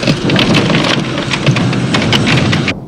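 A thunderstorm with heavy rain: a steady loud hiss of rainfall runs under a low rolling rumble of thunder, then cuts off abruptly near the end, with no voices.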